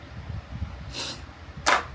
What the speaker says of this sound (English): And then a setting spray.